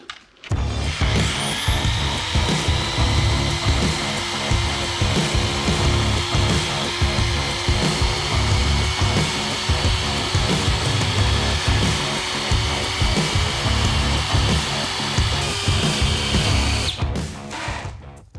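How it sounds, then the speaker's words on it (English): A power drill cuts steadily around and through the body of a drain flange, giving a loud, continuous high whine with a grinding rasp that holds evenly for the whole stretch before cutting off. "I'm just going to start the drill, I'm going to go around, and I'm going to cut through the body of this drain"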